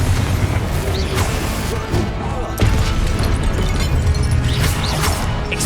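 Blasting-curse explosions from the Hogwarts Legacy video game, with loud booming bursts and crashes over a dense continuous roar, several sharp hits spread through the passage.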